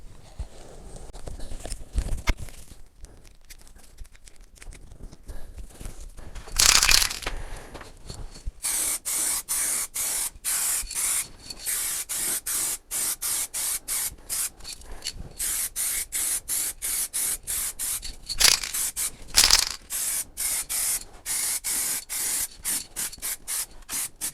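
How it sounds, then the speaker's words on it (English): Aerosol spray paint hissing onto a servant bell box, with long steady bursts of spray broken by short pauses and a few handling knocks early on, close and alone. "so I may as well spray the bell while I'm at it"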